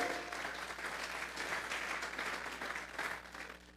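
A church congregation applauds as an offering of praise during a sermon. A short, steady wave of clapping comes from a crowd, moderately distant and fairly quiet.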